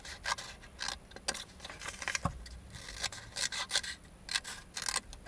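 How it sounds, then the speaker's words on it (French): Blade cutting lengthwise through paper for a craft storage album, a close, dry rasping scrape repeated in uneven strokes, fairly quiet with no talking. "Et je coupe sur la longueur."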